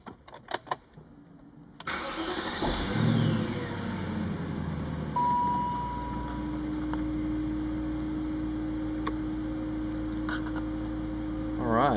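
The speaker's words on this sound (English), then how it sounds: "let's go ahead and start this thing up" A 2003 BMW 540i M-Sport with a six-speed gearbox cranks briefly and fires up. The engine then settles into a steady, loud idle close by with a faint whine, and no talking.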